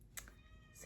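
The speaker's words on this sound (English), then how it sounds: "Excuse my cat." A house cat gives a short meow or two in a quiet indoor room during a craft session sewing an orca plush, brief and fairly close.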